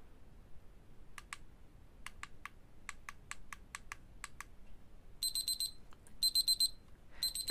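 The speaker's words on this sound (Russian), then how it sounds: "Таким вот образом он пищит." A small temperature controller gadget gives a series of quiet button clicks, then three short bursts of rapid high-pitched electronic beeps, close by and at low volume in a quiet room.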